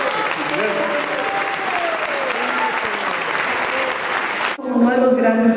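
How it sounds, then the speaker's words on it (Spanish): Loud, sustained audience applause fills a Bogotá music awards hall after a composer and music producer is introduced, dense clapping with voices mixed in, ending abruptly as a new, tonal sound takes over near the end. "Ensayemos el aplauso bien fuerte"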